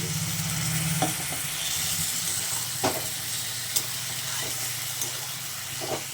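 Water goes into a hot pan of fish cooked with watermelon, raising a steady sizzle and hiss with sharp stirring clicks and scrapes at intervals, close and moderately loud, with no talking.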